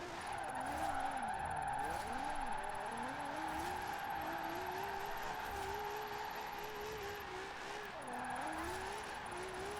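A Nissan 370Z drift build in Forza Horizon 4 slides continuously, its tires squealing in long wavering skids over a steady engine drone, loud and sustained throughout.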